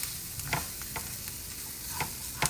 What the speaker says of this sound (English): So the onions and the jalapenos are just about sauteed. I know y'all hear that sizzle.